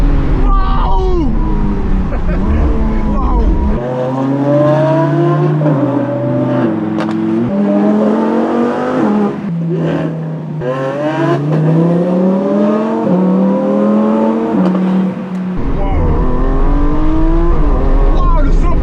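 A McLaren supercar with a single-clutch gearbox roars through a video game, its engine note climbing in repeated rising sweeps and dropping at each gear change, loud and close, while voices exclaim over it.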